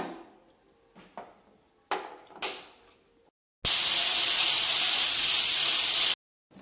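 A pressure cooker on a stovetop, holding soya chunks cooking with garam masala, blasts a loud, sustained steam whistle for about two and a half seconds after some faint kitchen clatter, then cuts off abruptly.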